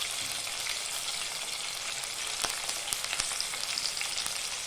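Green chilies and curry leaves frying in hot oil for a Kerala fish curry give a steady, close sizzle dotted with sharp crackles and pops, with no talking.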